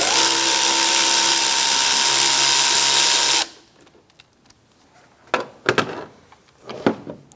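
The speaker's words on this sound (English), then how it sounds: "Using a 7mm, we're going to loosen up this clamp." A 7mm ratchet loosens the airbox clamp on a 2012–2018 Ford Focus. A loud, continuous power-driven whir runs for about three seconds, then cuts off, followed by a few sharp clicks and knocks.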